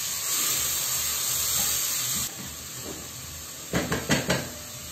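Chopped onion and three garlic cloves frying in oil in a pan, a steady close hiss and sizzle, followed near the end by a few quick metallic clanks of a utensil against the pan.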